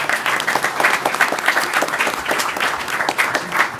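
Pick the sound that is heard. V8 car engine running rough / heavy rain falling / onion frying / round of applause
round of applause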